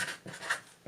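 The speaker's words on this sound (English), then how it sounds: "Maybe I'll write it like that." Pen strokes scratch across paper while someone writes calculus by hand, a few short close scratchy strokes in quick succession with no voice.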